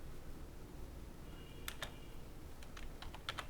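Soft clicks of a computer keyboard while typing text for a kids' birthday flyer, a few scattered keystrokes and short clusters, faint against a steady background hiss.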